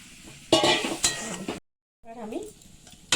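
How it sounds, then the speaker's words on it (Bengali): Water poured into a hot sizzling pan while cooking doi patal, bursts of loud hissing and utensil clinks, a brief silent gap, then a gentler bubbling sizzle with another clink at the end, close up. "এবার আমি এতে একটু জল অ্যাড করব।"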